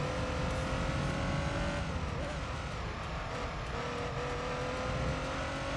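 A Toyota Supra race car in Gran Turismo 3 drones loudly and continuously, its engine note rising and dipping through gear changes, with brief tire squeal mixed into the steady racing roar.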